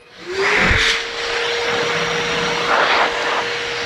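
A vacuum cleaner, switched to blower mode, whirs up to a steady, loud drone and keeps running continuously, with a brief rise in airflow midway.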